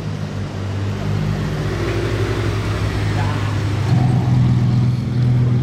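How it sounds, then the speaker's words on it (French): A new Lamborghini Huracan Technica sits on a city street with its engine idling in a steady, low drone. The engine note rises slightly near the end, with faint street noise in the background. "toute nouvelle Huracan Technica"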